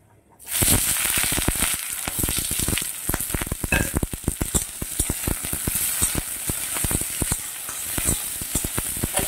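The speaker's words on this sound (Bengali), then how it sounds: "পেঁয়াজটা বেশ ভালো করে আমি ভেজে নেব।" Onions drop into hot oil already crackling with dried red chilli and panch phoron, setting off a loud, close, continuous sizzle full of rapid pops that starts abruptly after a brief quiet.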